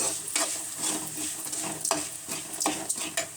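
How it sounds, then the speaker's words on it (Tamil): Grated coconut being stirred in a hot pan, a quiet, close sizzle broken by a steady series of scraping strokes of the spoon across the pan, with no one talking. "இப்போது தேங்காய் துருவலையும் சேர்த்துக்கலாம். இதையும் ஒரு கிளறி விட்டுருங்க."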